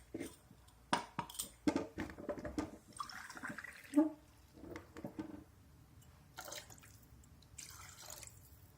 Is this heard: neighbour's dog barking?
no